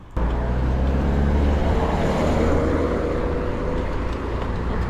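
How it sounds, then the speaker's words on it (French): Steady road traffic rumbles as cars pass cyclists on an open road under hot Spanish sun, a loud continuous low roar of engines and tires with no voices. "Il y a trop de voitures."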